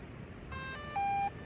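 An electronic device beep, a single short tone, quiet and close, preceded by faint chirping tones and low background noise.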